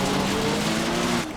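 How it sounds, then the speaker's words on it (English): A rally car engine in a rally video game on a Finnish mine shaft stage revs in a loud, sustained drone that holds steady before easing off, with no talk. "Revving my engine like I'm going to be fast"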